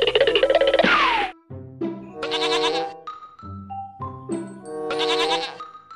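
Goats bleat repeatedly, loud and close, in wavering bursts separated by short pauses, with no talk over them.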